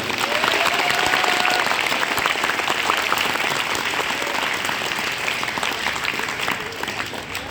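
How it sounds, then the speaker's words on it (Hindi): A large audience at an Arya Samaj Vedic bhajan gathering in Hisar claps loudly and steadily for several seconds, a dense, continuous wash of hands that eases slightly toward the end. "खुद के लिए ताली बजाओ जोरदार"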